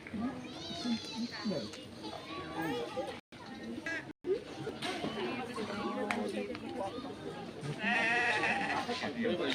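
Goats and sheep bleat repeatedly around an Eid al-Adha sacrifice gathering, mixed with children playing and crowd chatter close by, continuous and fairly busy.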